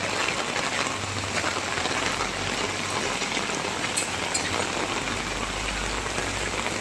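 Heavy rain pours onto a footpath in Hemayetpur, a dense, unbroken hiss of falling water at steady loudness from start to finish.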